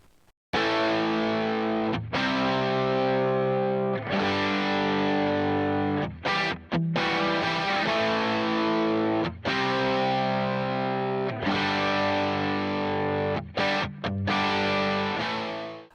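Heavily distorted electric rhythm guitar plays big chunky chords in a steady groove, with several short sharp stops and jumps, loud and on its own.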